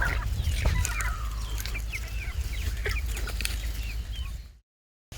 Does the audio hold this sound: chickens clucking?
yes